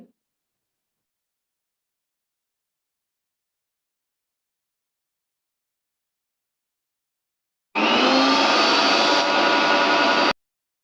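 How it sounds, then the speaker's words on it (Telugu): Roasted spices are ground in a kitchen mixer grinder, which starts after a long silence with a loud, dense roar that runs steadily for about three seconds and then cuts off abruptly. No one speaks. "ఇప్పుడు ఇవన్నీ మిక్సీ పట్టేయాలి."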